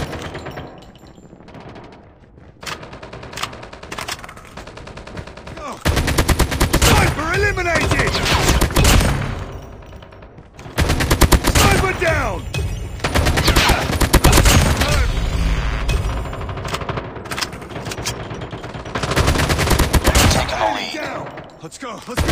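Assault rifles fire in Call of Duty Mobile, with long loud bursts of rapid automatic gunfire and brief pauses between strings, mixed with game sound effects and occasional voice callouts.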